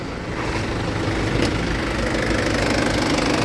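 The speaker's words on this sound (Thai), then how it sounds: "นี่เสียงเครื่องไดเล็กก็" A direct-injection diesel van with an inline pump and three rows of seats idles close by, a steady loud clattering diesel knock that runs without change and with no one talking.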